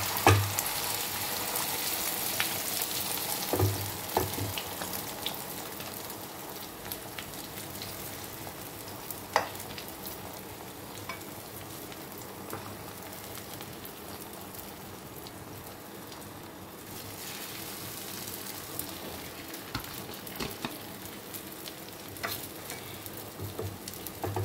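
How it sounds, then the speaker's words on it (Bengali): Beaten egg frying in hot oil for an omelette, a continuous soft sizzle with crackling pops and faint utensil taps over about twenty-five seconds, no talking. "তেলটা গরম হয়ে গেছে ভিউয়ার্স, এবার আমি ডিমটা ছেড়ে দিচ্ছি।"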